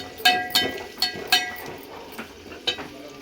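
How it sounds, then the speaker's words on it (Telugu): Ginger pieces frying in oil in a pan, a low sizzle beneath several sharp metallic clinks of a utensil striking the vessel, spaced irregularly and heard close up. "ఆయిల్ దీంట్లో అల్లం ముక్కలు కొద్దిగా వేయించుకోవాలి"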